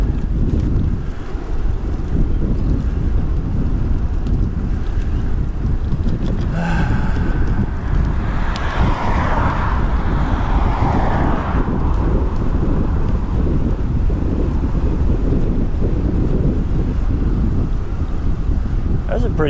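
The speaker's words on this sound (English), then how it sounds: "That's a pretty heavy headwind." Strong headwind buffets the microphone aboard a boat cruise past Oak Island, a continuous loud low rumble of wind with water and motion noise, and a voice speaks briefly midway.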